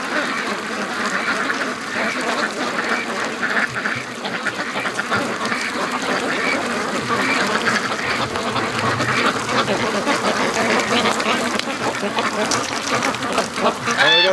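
A flock of free-range ducks quacks in a dense, continuous chorus nearby, with Muscovy ducks close at hand and a voice faintly mixed in.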